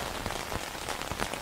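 Rain falls on a tent at night during wild camping, a dense, steady patter of drops with occasional louder taps, heard close and alone.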